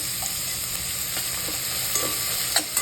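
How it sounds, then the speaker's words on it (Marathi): Chopped onion frying in hot oil with a steady, fairly loud sizzle, with a few faint stirring scrapes and clicks near the end. "तेल चांगलं तापलेलं आहे कांदा टाकून घ्यायचं"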